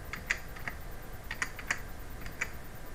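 Computer keyboard typing, a light run of scattered key clicks at an uneven pace, close and fairly quiet with no voices.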